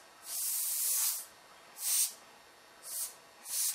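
Airbrush spraying paint over a mask for a caricature, heard as four close, steady hisses, the first long and the rest shorter bursts separated by brief pauses, with no talk.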